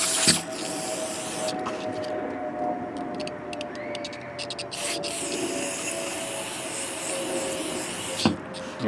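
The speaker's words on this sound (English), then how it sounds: "I'm just going to use some carburetor cleaner" Carburetor cleaner sprayed onto the carburetor of a Craftsman Eager-1 lawn mower with a Briggs engine, a steady close hiss running almost without pause, with a short sharp burst near the end.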